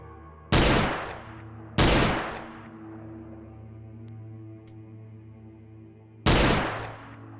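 Gunshots from head shooting in an indie horror video game ring out as three loud, sharp blasts spaced a second or more apart, each with a long reverberant tail fading over a low steady hum.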